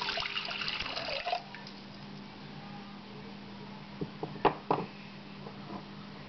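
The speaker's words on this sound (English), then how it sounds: "I'm going to add a cup of warm water" A cup of warm water is poured into a bread maker pan, a brief splashing gush followed by quiet, then a few scattered drips and clinks, close and fairly soft.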